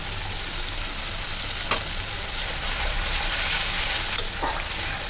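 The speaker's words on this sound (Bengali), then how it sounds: "ভালো করে মশলাটা কষায় নিতে হবে" Ground cumin, coriander, salt and dried chili powder sizzle steadily in hot oil in a pan while being cooked down for raw jackfruit cutlets, a continuous broadband hiss with two brief sharp clinks of a utensil.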